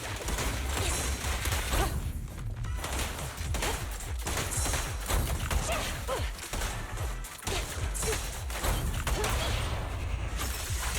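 Enemy gunfire in the video game Zenless Zone Zero sounds as dense, continuous volleys of sharp shots and crashing impacts, loud and unbroken throughout, with no clear talk.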